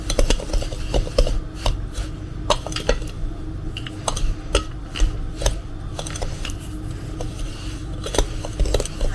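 A spoon scrapes and clinks against a bowl while a cheese and olive filling is stirred, making steady, close rasping and tapping sounds with no talking.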